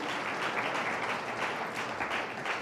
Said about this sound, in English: give them a warm applause as they make their way up